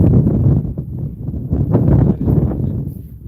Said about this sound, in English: It's mighty windy out here today.